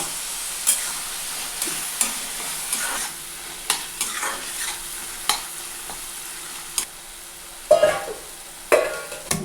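Dried red chili seeds fry and crackle in a pan while a spoon stirs them for a tomato chutney, giving a steady sizzle broken by sharp scraping strokes, with a louder clatter near the end.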